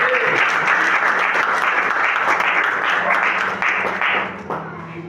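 A church congregation applauds in loud, dense, continuous clapping, with a low hum and some voices underneath, before it begins to thin out near the end.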